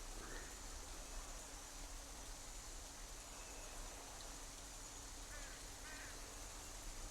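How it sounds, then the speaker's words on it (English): In the video game The Isle, a bird gives a few faint caws over steady rainfall, the calls distant and partly buried in the constant hiss of rain. "Bird, you're drunk. You're in the rain."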